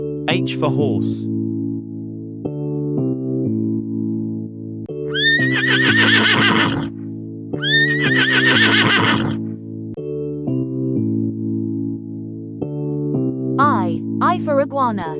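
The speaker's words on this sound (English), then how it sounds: "H for horse" A horse whinnies twice in long, shrill neighs, with a shorter call near the end, all over a steady musical backing.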